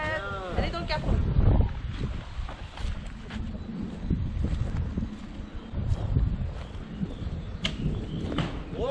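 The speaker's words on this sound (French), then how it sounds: "Il y a du vent, c'est ça." Gusty wind buffets the microphone outdoors near water during field training at Le Mesnil-Saint-Denis, with voices and clattering movement underneath.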